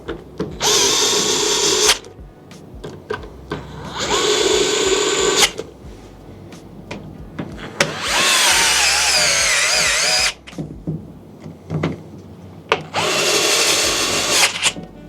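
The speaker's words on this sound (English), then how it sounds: "we're gonna install our 4 top rail screws" Power drill driving the four top rail screws on a Onewheel XR during a tire change, heard as four loud whirring bursts of a couple of seconds each, separated by short pauses.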